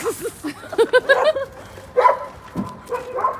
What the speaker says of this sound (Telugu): అమ్మ కుక్కలు వస్తున్నాయి